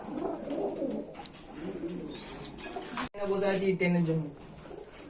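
Domestic pigeons at a bird sale coo softly and repeatedly close by, their low burbling under a voice speaking throughout.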